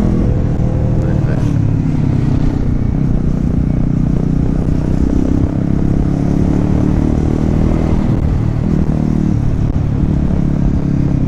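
A motorcycle engine drones steadily through traffic noise, with wind rush and a continuous loud rumble throughout.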